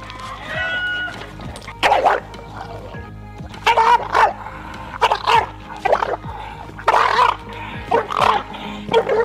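A dog barks in repeated loud bursts, about six or seven barks spaced roughly a second apart, close by, with a faint whimper or yip at the start over steady background noise.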